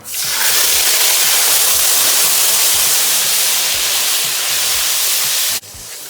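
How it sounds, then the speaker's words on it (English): Pounded ingredients for Ndambeh black-eyed pea stew drop into hot oil and fry with a loud, steady, broadband sizzle that carries on without a break, then eases off slightly near the end. "Now it's time to fry in our pounded ingredients."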